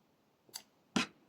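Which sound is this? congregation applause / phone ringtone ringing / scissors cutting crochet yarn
scissors cutting crochet yarn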